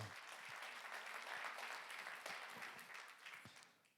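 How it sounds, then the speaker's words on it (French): A church congregation applauds during a Sunday celebration service, a steady wash of many hands clapping that stays full for several seconds and then fades out toward the end, with a little voice noise underneath. "On peut applaudir les gens qui sont là aussi avec nous"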